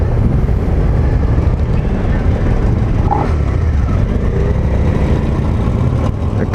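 A 2019 Suzuki SV650X motorcycle engine drones steadily and loudly as the throttle is rolled on, a continuous mid-range rumble with wind noise and no clear rev peaks.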